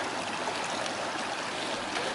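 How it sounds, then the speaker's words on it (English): Creek water rushes steadily over rocks at a stream crossing on the Pacific Crest Trail between Warner Springs and Lost Valley, a continuous close, broadband flow with no voices. "next bit slightly more dodgy creek crossing"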